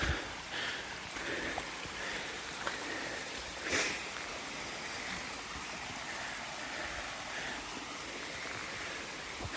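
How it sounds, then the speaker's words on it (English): Stream water from higher up runs down a muddy hiking track on Alphin Pike in the Peak District, a steady close trickling and gurgling rush that continues throughout with little change. "one of the streams higher up is now making its way into this track, and it's just literally running all the way down the track"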